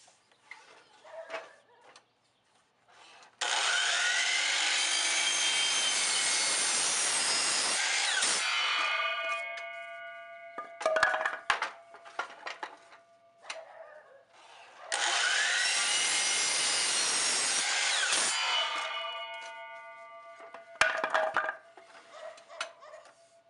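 Power saw cutting wood pieces for cheap garage shelves: two long, loud, steady whining cuts that wind down, with clattering and handling of wood between and after them and no talking.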